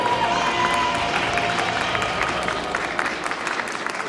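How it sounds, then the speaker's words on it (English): An audience at a bodybuilding qualifier contest applauding two competitors, sustained crowd clapping mixed with some cheering, filling the room steadily from start to finish. "Audience members, a round of applause for two fantastic bodybuilders."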